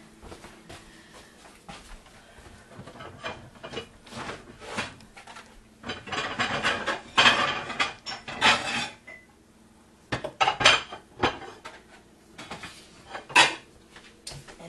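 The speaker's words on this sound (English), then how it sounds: "It's time to fix y'all a plate. So let me get a plate." Kitchen clatter while a plate is fetched to serve Swiss steak: ceramic and cutlery clinks and knocks in irregular bursts, close by, with quieter gaps between and no talking.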